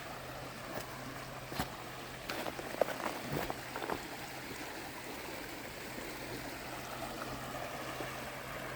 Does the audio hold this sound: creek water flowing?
yes